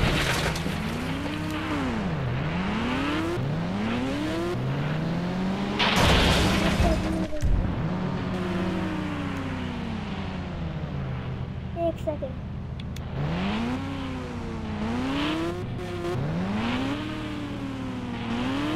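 A motorbike engine revs up and down repeatedly, its pitch climbing and falling in smooth sweeps, broken by a loud gust of wind noise midway.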